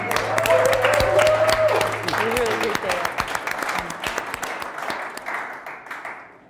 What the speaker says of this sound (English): Can we give a round of applause to Ian for tonight's event?